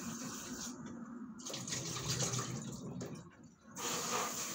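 Tap water runs steadily into a sink as chicken drumsticks are rinsed, a continuous close splashing gush that shifts slightly in tone as the meat moves under the stream.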